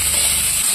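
Hog plums dropped into hot oil with mustard seeds, a steady loud sizzle and hiss of frying that fills the whole short moment without a break.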